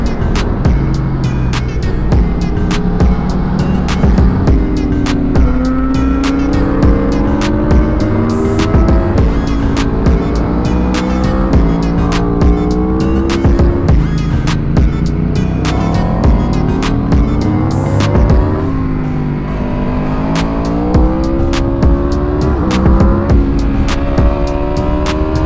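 Motorcycle fitted with new footpegs riding the mountain curves up Terminillo, engine loud and close throughout, revs rising and falling in steady waves through the bends with no talk.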